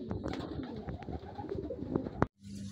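Racing pigeons cooing at close range, a busy cluster of bird calls over a constant murmur, ending in a brief sharp clatter and then quiet background noise.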